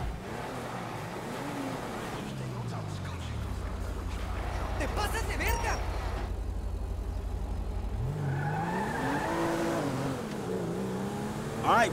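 A car drives in Grand Theft Auto V, its engine rising and falling in pitch as it revs and shifts under steady road noise, with voices in places.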